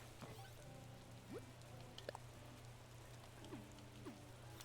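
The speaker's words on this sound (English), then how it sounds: "Honestly, it feels like it's raining harder than normal." Rain in Animal Crossing: New Horizons falls as a soft, steady patter under a low hum, with quiet rising chirps and light tones drifting faintly over it.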